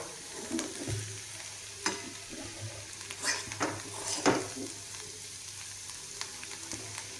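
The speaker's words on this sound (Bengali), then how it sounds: "দেখো এরমভাবে আলু ভাজা করে খেয়ে দেখো।" Diced Jyoti potatoes fry in a pan, a soft sizzle with scattered clinks and scrapes of a utensil stirring against the metal, quiet and close, no talking.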